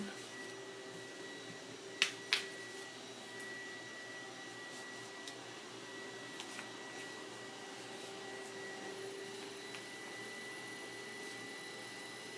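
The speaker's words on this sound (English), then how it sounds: "The vacuum is throwing me off." A steady, faint vacuum cleaner hum runs throughout, with two sharp clicks early on and a few tiny ticks later.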